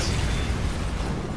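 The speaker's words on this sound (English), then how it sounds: "Stop shooting missiles!" Missile explosions in Resident Evil 6, a dense, continuous rumbling roar of blasts and debris, loud and sustained with no clear gaps and no voices.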